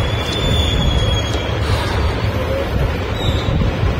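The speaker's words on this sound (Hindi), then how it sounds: "कितनी बेहतरीन हवा चल रही है" Wind blows hard across the microphone on a flyover, a loud continuous low rumbling buffet with a faint high whine running through it.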